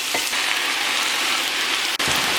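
Meat and mushrooms frying in a pan give a steady, close hiss and crackle, like rain on a hard surface, with a brief clink near the end.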